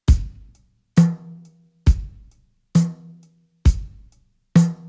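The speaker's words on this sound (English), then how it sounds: "Let's record a basic groove so that we have a better reference than the click track." Basic steady groove played on a sampled 1970s acoustic drum kit from a Native Instruments library: evenly spaced kick and snare hits alternating about once per second, dry, close and loud, no voices.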